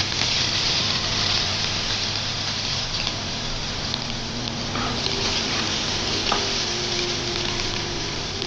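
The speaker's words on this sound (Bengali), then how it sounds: "সেজন্য আলুগুলোকে আর একটু ভেজে নিচ্ছি।" Potatoes fry in a pan with a steady, loud sizzle and crackle that runs throughout, with occasional faint stirring noises and no talking.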